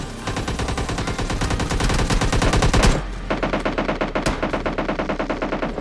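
Rapid automatic gunfire from a PUBG Lite match, a dense sustained burst for about three seconds, then a brief pause and a steady stream of evenly spaced shots, loud and close with no talk.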